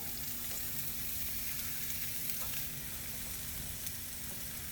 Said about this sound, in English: So the pan is already hot. We're gonna go back to that sizzle from last time.